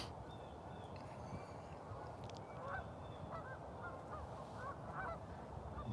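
Geese honk faintly and far off near water at a fishing spot, a few scattered calls that are barely audible over steady wind and ambient noise.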